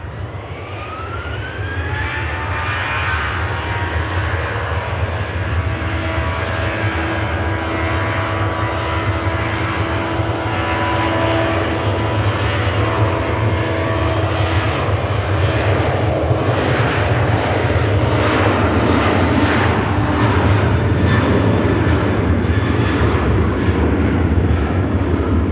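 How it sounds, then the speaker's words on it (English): Ryanair airliner bound for Berlin takes off from Manchester Airport, its jet engines spooling up into a loud, sustained roar with a rising whine that holds for the full length, with no talk over it. "Here goes the Berlin bound Ryanair."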